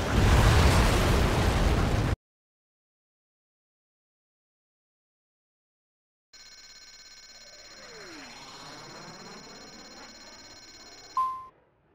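A missile explosion in the jet combat game Ace Combat 7 hits as a loud, dense roar lasting about two seconds, then cuts to silence before electronic warning tones and beeps rise.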